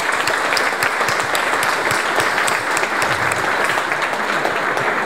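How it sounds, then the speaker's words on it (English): Audience applause fills a PHP conference hall at the start of a talk, steady dense clapping from a large crowd, loud and continuous throughout with no voices over it. "Let's give them a round of applause."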